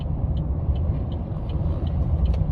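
Car engine and road rumble from inside a moving vehicle in traffic, a steady low drone with faint intermittent hiss, no talk.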